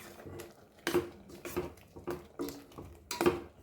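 A spoon stirs Goan knol khol prawn curry in a pot after fish curry masala powder is added, giving a handful of soft clinks and scrapes against the pot at an uneven pace, fairly quiet and with no talking.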